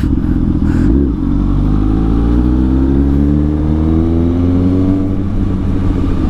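A Honda Fireblade inline-four motorcycle engine revs up close and loud, a smooth rising wail that climbs steadily in pitch after a brief dip, with a dense, throaty rumble underneath.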